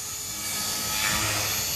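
A radio-controlled Goblin 450 Pro helicopter, a fuselaged model, flies nearby with a steady high-pitched whine of rotor and motor that holds constant and swells slightly midway, with no talking.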